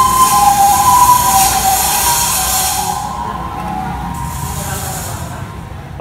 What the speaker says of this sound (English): this is the first time I've ever seen anyone polish a shaft using an angle grinder